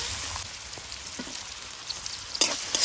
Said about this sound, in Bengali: গাজরটা যেহেতু একটু শক্ত, তাই প্রথমে একটু ভেজে নিচ্ছি।